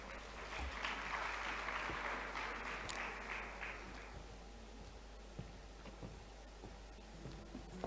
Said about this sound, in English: Please, let's welcome him to stage with a round of applause.